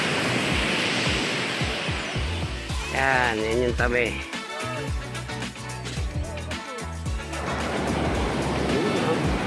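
Sea waves rolling onto the beach at San Juan, Bacon, Sorsogon, a broad roaring surf wash loudest at the start and end, with someone talking over it in the middle.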